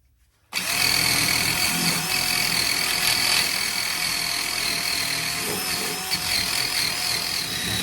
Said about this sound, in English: So I'm going to get the wire brush to it and give it a good cleaning.